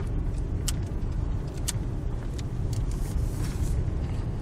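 A low-clearance passenger car climbs a narrow, winding mountain road to an old observation tower near Elkins, West Virginia, heard from inside as a steady low engine and road rumble with faint rattles.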